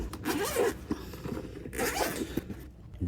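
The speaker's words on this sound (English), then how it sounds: "comfortable zipper" A zipper on a hard carrying case for an OBD2 code reader is pulled in two long, close-up runs, each a rasping zip lasting about a second, with a brief pause between.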